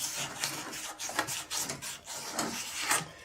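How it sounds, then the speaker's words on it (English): Sandpaper rasps by hand across a marred surface on a forgotten Alfa Romeo under restoration, a steady run of scratchy back-and-forth strokes, close and fairly loud, with no talking. "How about a little sandpaper?"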